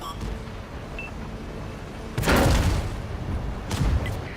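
An artillery shell strikes a Panzer VII tank in a tank battle game, a heavy boom bursting out of low background rumble about halfway through, followed by a second, softer thump a moment later.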